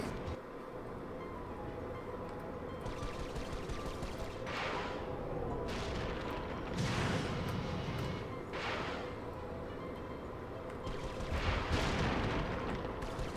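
Missiles launching and exploding in Ratchet and Clank: Going Commando, a series of booming, rumbling blasts over constant game noise, loud and continuous, with no speech.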